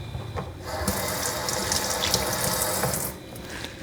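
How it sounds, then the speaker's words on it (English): Hot water from a pot of boiled green papaya pours out in a steady, close splashing stream lasting a few seconds, then tapers off, with no talk over it. "Then pour out the water."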